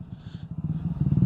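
A motorcycle being ridden, its engine giving a steady rhythmic low pulsing that quickens and grows louder toward the end, with no talking.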